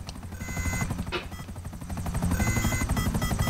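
Helicopter in GTA V with a steady whirring rotor and engine drone that swells toward the end, mixed with busy game sounds.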